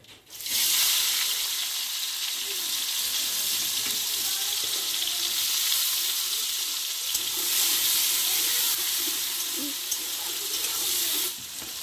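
Chopped onions fry in oil with dried chillies and whole cumin seeds in a home kitchen, a steady, close hiss and sizzle that holds throughout, with faint stirring clatter and no talk.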